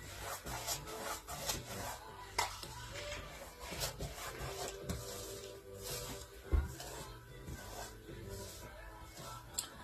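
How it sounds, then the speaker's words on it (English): A paintbrush rasps and rubs steadily across a canvas as varnish is spread over a coastal bird painting, with soft continuous brushing strokes close up and no voices. "Just even out the brush strokes."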